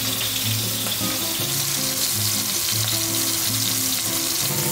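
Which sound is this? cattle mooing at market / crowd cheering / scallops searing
scallops searing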